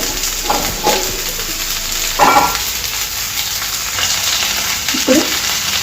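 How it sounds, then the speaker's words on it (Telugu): Bitter gourd pieces fry in a pan while being stirred, a continuous sizzle broken by several scraping stirs of a utensil, close and fairly loud. "పెట్టుకొని ఉంచుకున్న కాకరకాయ ముక్కలు వేసుకోవాలి. వేసుకొని ఇదంతా ఒకసారి ఇలా కలిపేసుకోవాలండి."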